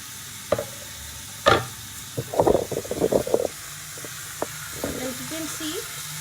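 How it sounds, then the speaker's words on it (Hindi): Onions and tomatoes cooking in a pan, stirred with a spoon over a low steady sizzle, with a burst of clustered scraping knocks midway and a few isolated taps; a faint voice murmurs near the end. "मैंने यहाँ ये सब डाल दिया प्याज टमाटर। अब बस इसको अच्छे से एक बार चलाना है।"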